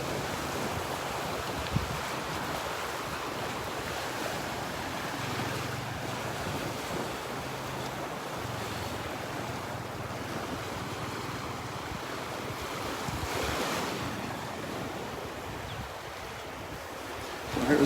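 Waves breaking on the beach at Delnor-Wiggins near Wiggins Pass in North Naples make a steady, rushing wash mixed with wind noise, continuous and fairly loud throughout, with no voices.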